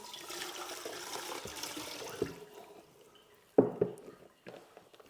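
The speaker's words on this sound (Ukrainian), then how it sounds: "Отак приподнімаю і виливаю сироватку." Whey is poured out of a cloth while making brynza cheese: a steady stream of liquid that tapers off, then a few close splashes and drips.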